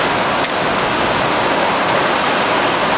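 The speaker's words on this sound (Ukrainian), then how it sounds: "тепер пішов величезний дощ" Heavy rain pours in a dense, steady roar, loud and close, with no gaps and no voices, falling outdoors where young storks sit in their nest.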